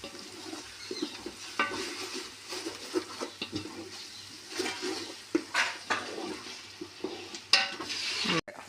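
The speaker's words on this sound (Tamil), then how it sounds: "இஞ்சி பூண்டு பேஸ்ட்டு சேர்த்த பிறகு நல்லா வதக்கணும்" Ginger garlic paste sautéing in a pan for a mushroom biryani, with soft sizzling and scraping stir strokes at an irregular pace, plus a few sharper clinks of utensil on metal.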